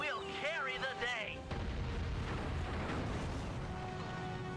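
An explosion goes off in the video game Sly 3: a deep rumbling boom that follows brief game sounds and carries on under a voice.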